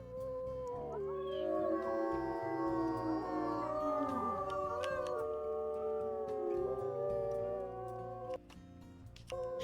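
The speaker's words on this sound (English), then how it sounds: "Let's do a howl with everybody." A wolf pack in the WolfQuest video game howls together, several long rising and falling voices overlapping close by for several seconds before trailing off.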